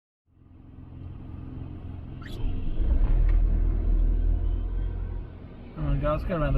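Heavy truck rumbling along a road near Reid Highway in Perth, its low engine roar building and holding steady before easing slightly, with a voice speaking briefly near the end.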